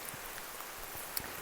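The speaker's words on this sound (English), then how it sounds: "As you can tell, it's pouring down rain." Pouring rain at a mountain trail shelter outpost, a faint, steady hiss of drops with a few brief louder patters, without voices.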